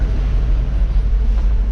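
A K30 Squarebody truck engine idles at a steady low rumble, a continuous close drone with a windy, breathy texture and no pauses.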